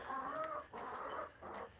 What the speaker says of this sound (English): I wonder if this hen is about to lay.